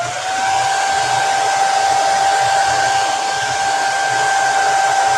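Low-temperature blow dryer drying a craft project, a loud, steady close-up airflow roar with a constant whine that runs unbroken after a brief start.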